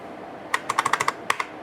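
Quick typing on a Packard Bell PB686 computer keyboard, a short burst of about eight crisp clicking keystrokes followed by two more taps, close and clear in a quiet room.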